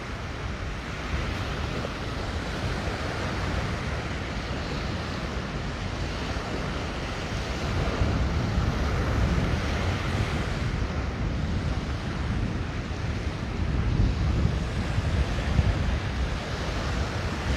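Steady wind buffets the microphone at Lanikai Beach on Oahu, a dense low rumble mixed with the wash of surf, swelling slightly louder partway through, with no voices.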